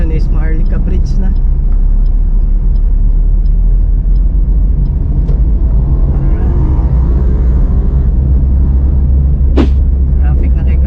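Road traffic rumbles near Maharlika Bridge in Cagayan de Oro City, a steady loud engine drone of passing cars with a brief horn-like squeal, while a person talks over it.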